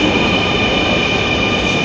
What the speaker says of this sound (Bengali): ট্রেন চলে আসছে, এখন আমাদের উঠার পালা।